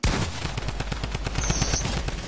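Rapid gunfire from a big gun in the video game Fortnite, a loud, dense burst of evenly spaced shots that runs without a break, with a brief high whine layered over the middle.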